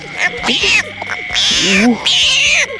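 Frogs croak loudly and close by at night after rain, rising and falling bursts of raspy calls in quick succession.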